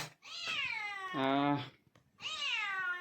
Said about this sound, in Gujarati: મીંદડી છે કે ખાવાનું માગે છે